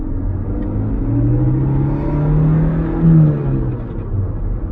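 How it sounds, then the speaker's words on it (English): A 1988 Toyota MR2 with a supercharged 4AG engine pulls under acceleration, giving a loud, close rumbling drone that rises slowly in pitch with a whirring edge, with no talk over it. "And it sounds like it's supercharged."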